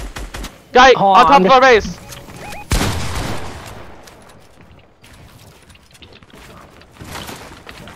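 Gunfire in Fortnite: a sharp burst of shots after a short chiming game sound, then fading scattered firing in the background while a player shouts over it.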